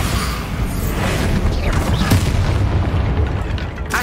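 Bombarda blasting spell cast in Hogwarts Legacy, a loud dense rumbling boom with crashing debris filling the whole stretch, heavy low-end roar and a sharp crack near the end.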